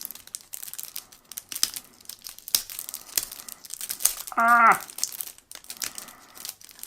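Crinkling plastic wrap as packs of board game cards are torn open for an unboxing, a steady run of close, rustling crackles with one brief squeak partway through.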